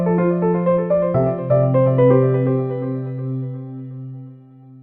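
A short musical promo jingle for a talk-show segment about a pondered quote: bright, layered tones in a rising melodic run over a sustained low note, ringing out and fading over about five seconds, with no talking.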